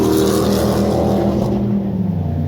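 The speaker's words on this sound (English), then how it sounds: "All that noise to keep up with traffic." Road traffic roars close by near a canal spillway, a loud continuous engine drone with a vehicle passing and the pitch shifting as it goes by.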